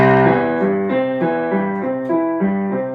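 A piano plays a smooth rising-and-falling arpeggio across one octave, notes ringing clearly and evenly at a moderate pace.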